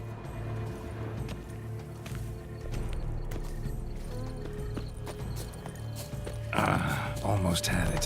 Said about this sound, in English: Countess Returner's steed.